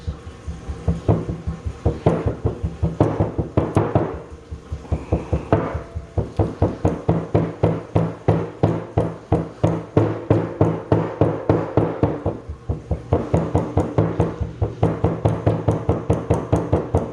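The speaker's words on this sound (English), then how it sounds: "Got a little hammer right here. We're gonna kind of give it a little compaction." A small hammer taps rapidly and steadily on packed sand in a casting flask, a long run of close, sharp knocks with a brief pause midway.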